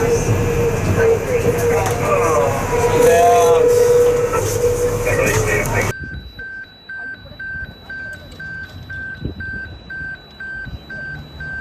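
A Savannahlander passenger train in Queensland pulls up at a station, with a steady rumbling roar that cuts off abruptly midway, leaving quieter background noise and a faint high electronic tone.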